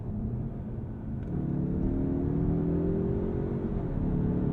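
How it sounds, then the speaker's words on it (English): A 2023 Mazda3 Turbo hatchback's engine drones steadily from inside the cabin as it revs under acceleration, its pitch climbing gradually before dropping with an automatic upshift near the end, with no talking. "Even earlier, 5500 RPM, it is upshifting for me."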